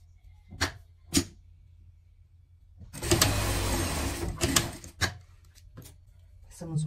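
A sewing machine stitches a seam on a small pet dress, giving one close, busy mechanical run of under two seconds between a few sharp clicks and handling noises, with a voice heard briefly.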